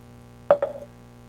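Polymer clay earrings with a napkin transfer dropped into a cup of water: two quick small plops close by, half a second apart, over a faint steady hum.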